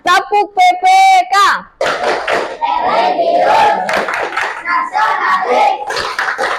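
Children perform the Tepuk PPK clapping routine at school, chanting loudly together and then breaking into dense, rhythmic group hand claps that fill the rest of the moment.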